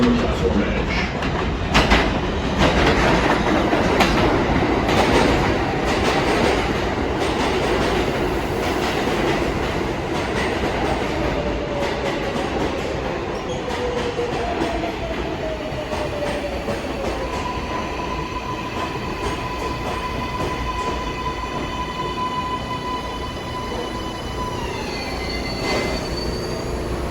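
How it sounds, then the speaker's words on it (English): Local 7 subway train, an R188, pulls into the elevated 33rd Street station during morning rush, a long loud rumble with clattering wheels and squeals, then a steady high whine as it slows, and no voices. "There is a local 7 train to Flushing Main Street. Approaching the station"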